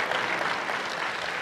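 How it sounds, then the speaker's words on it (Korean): A church congregation at a CTS revival meeting at Seongchan Methodist Church bursts into brief, dense clapping, a steady wash of many hands lasting only a moment. "박수 좀 치면 안 될까요?"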